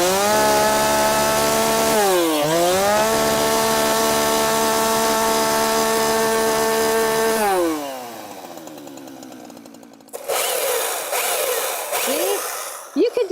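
A freshly sharpened chainsaw revs loudly and steadily up close, its pitch dipping and recovering before winding down to idle and cutting off, followed by quieter clattering handling noises.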